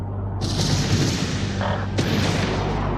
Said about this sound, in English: Kinetic fire.